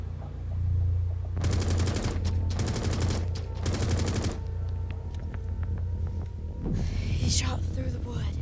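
Three bursts of rapid automatic gunfire in Rainbow Six Siege, close and loud, with a few scattered single shots afterward over a low background hum.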